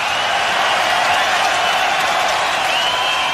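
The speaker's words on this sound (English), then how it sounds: "listen to that clapping" A crowd claps in a dense, steady burst of applause, loud and unbroken, with a few faint cheers mixed into the wash of hands.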